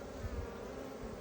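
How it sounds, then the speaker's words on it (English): Honey bees buzz around an open hive during a first hive inspection. The hum is steady, close and dense, with no talk. "These bees are safe. They're getting a little riled up, aren't they?"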